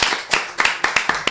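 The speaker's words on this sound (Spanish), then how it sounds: "Así que pido un aplauso acá mismo." Sparse clapping at a small outdoor political campaign gathering in Libertad, with about seven distinct, irregular claps from a few hands, fairly close and sharp, and no voices over them.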